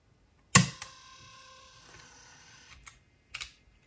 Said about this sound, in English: the motor sound was actually terrible